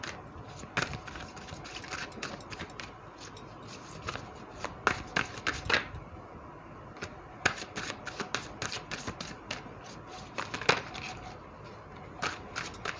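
Tarot cards are shuffled by hand in bursts of quick, crisp riffling and flicking that come close and fairly quiet, with uneven pauses between the bursts and no talking.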